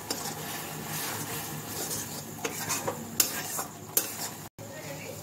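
A spoon scrapes and stirs spice masala frying in oil in a pan, cooked until the oil separates, giving soft scraping and clinking taps with a faint sizzle underneath and no voices.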